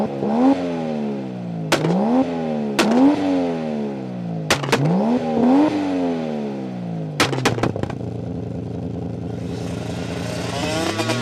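A Toyota Supra with a 2JZ straight-six turbo engine revs repeatedly, rising and falling in several sharp blips, with loud pops and crackles between the revs, followed by a steady idle and hiss.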